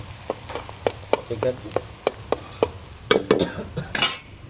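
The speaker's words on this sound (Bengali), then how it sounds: "এই যে পেঁয়াজটা একটু লাল লাল করে ভাজা হবে" Onions fry in a pan until reddish while a metal spatula knocks and scrapes the pan in a run of sharp, regular clinks over a soft sizzle, close up, with a brief spoken remark.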